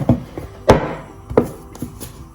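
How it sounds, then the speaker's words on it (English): Mandazi dough is kneaded on a cleaned kitchen surface: several heavy, dull thumps land at irregular intervals, close and fairly loud, with no talk. "we just want to knead the dough one more time"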